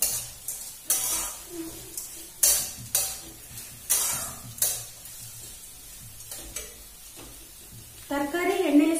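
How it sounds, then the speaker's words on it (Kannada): Vegetables frying in oil with chana dal and urad dal in a home kitchen pan, a soft sizzle under repeated sharp stirring scrapes, with louder crackling as more goes in near the end. "ತರಕಾರಿ ಎಣ್ಣೆಯಲ್ಲಿ ಸ್ವಲ್ಪ ಹೊತ್ತು ಬೇಯಬೇಕು."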